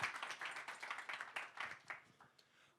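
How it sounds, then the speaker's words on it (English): A small audience clapping for a panel of speakers at an evening advertising and AI panel event, a short burst of scattered hand claps that fades out over a few seconds, fairly quiet and without talk. "Round of applause, please, for the panelists."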